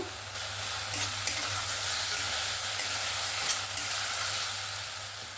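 Ground ginger-garlic spice masala frying in a pan for Bengali tangra fish jhal, a loud continuous hiss and sizzle close by with a few faint scraping stirs and no voices.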